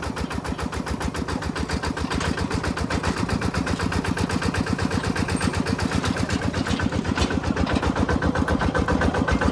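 A tractor engine chugs on a mountain road in a steady, rapid rhythmic putter, moderately loud and continuous with no talking.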